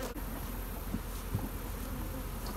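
Honey bees swarm and buzz around stacked hive honey boxes outdoors, a steady dense drone close by with no talk.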